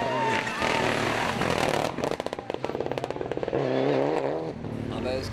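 A Mitsubishi Lancer Evolution 7 rally car engine at a 2003 French rally championship event, revving hard with popping, crackling bursts from the exhaust, loud and close, while a commentator talks over it.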